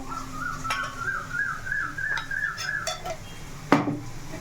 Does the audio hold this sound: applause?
no